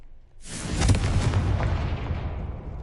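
A Confringo spell goes off in Hogwarts Legacy with a sudden loud blast after a brief quiet moment, then a deep rumbling boom that slowly fades as it rolls on.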